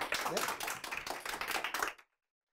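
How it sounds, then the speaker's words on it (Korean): An audience at a talk on time management claps warmly for about two seconds, a close, busy patter of many hands that stops abruptly into silence. "큰 박수 부탁드릴게요."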